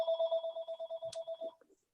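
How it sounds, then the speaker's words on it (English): A telephone rings in an electronic trill during a planning board meeting, one ring pulsing rapidly for about a second and a half at moderate level. A short clunk lands near the end, and a faint voice follows. "our phone just rang"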